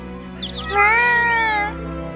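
A cat meows loudly and close by in one drawn-out, rising-then-falling call lasting about a second, set against a steady low background hum.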